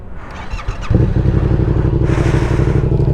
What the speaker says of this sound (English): I'm riding an R7 today